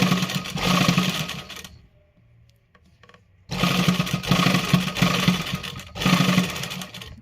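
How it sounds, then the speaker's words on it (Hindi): Sewing machine stitching the neckline of a winter inner garment in two bursts of fast, steady whirring run, close and loud, with a pause between and a third run starting near the end. "अब इसको सिलाई करेंगे।"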